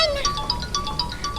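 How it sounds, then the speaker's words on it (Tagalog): A mobile phone ringtone plays a repeating electronic melody of short bright tones in a steady loop, fairly close and clear, with no talking over it. "Silpon ko samat nagriring."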